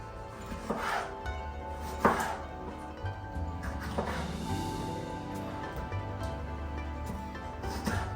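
A knife chops tomatoes from a home garden on a cutting board, with sharp knocks at irregular intervals, a few louder strikes among softer ones, close by and heard alone.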